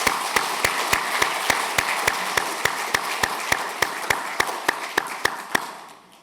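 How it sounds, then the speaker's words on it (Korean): Evenly spaced, crisp claps ring out over a broad, steady wash of applause in a church, with the crowd keeping a steady beat before fading toward the end. "큰 박수로 환영하겠습니다."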